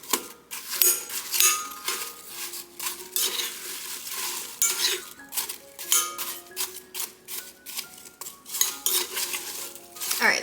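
Apple cobbler ingredients being mixed in a bowl, with rapid, uneven scraping and clinking of a utensil against the dish, close and continuous with short pauses.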